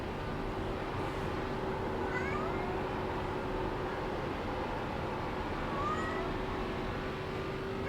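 A daughter's cat meows repeatedly from behind the driver inside a car, over the steady rumble of an ARCA race car running at Pocono, with no talk.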